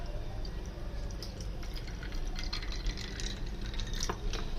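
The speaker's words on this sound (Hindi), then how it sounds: "थोड़ा सा हम इसके अंदर शरबत डालेंगे।" Mango sharbat poured into a glass, a steady close liquid trickle and splash with faint dripping, continuous throughout with no talk.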